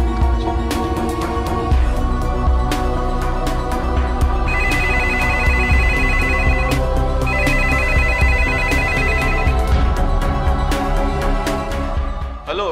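A telephone rings during a call to a father, its electronic ringtone repeating loudly in regular bursts with no talking over it.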